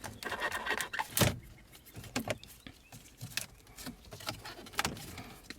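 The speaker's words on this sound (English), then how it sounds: "So now the other step will be prying this plastic panel out." Plastic interior trim panel being pried out of a 2016 Honda Pilot, with close irregular snaps, clicks and creaks of plastic, one sharp pop standing out among softer handling noises.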